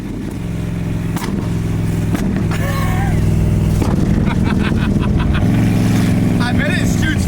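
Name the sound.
Cadillac engine rev through fender-exit exhaust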